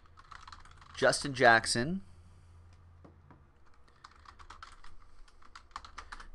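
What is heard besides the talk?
typing on a computer keyboard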